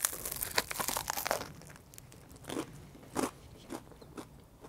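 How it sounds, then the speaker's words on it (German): Someone bites into a hot dog holding a very spicy chili sausage at a stadium, giving crisp crunchy bite and chewing sounds in a few close bursts that fade into quieter chewing. "Hier ist mein Hotdog mit der Chili-Kreiner drin und da beißen wir jetzt mal rein."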